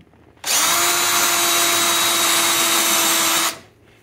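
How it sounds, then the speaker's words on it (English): A power drill bores out a rivet on the convertible top of a 1987 VW MK1 Cabriolet, one steady, loud high-pitched whine of about three seconds that starts and stops abruptly. "Show you how to get the rivet out."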